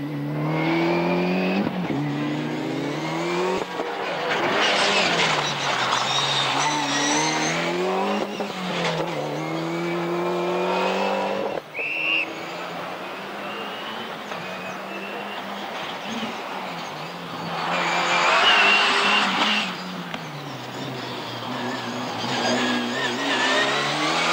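A rally car races flat out along a stage with a wheel rubbing against its bodywork, its engine revving hard and dropping through gear changes with bursts of tire noise, close and loud throughout.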